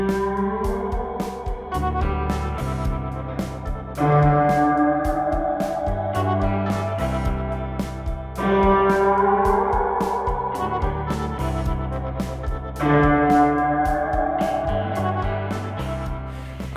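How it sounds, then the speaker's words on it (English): A Supro guitar amplifier, compared between a vintage 1960s 16T and a new Montauk, rings out sustained, reverb-soaked guitar chords and notes in a steady, continuous wash, loud and close with no talking. "It's crazy being behind this amp while it's just putting out reverb."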